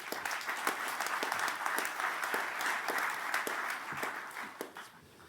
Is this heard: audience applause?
yes